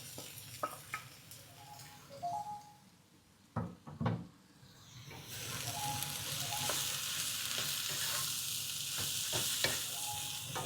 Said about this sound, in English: Final touches to my vegetable tofu stir fry.